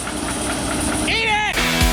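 Chambers Delimbinator engine running near 2,400 RPM, a steady loud rumbling drone with a tonal sweep in the middle, continuous throughout.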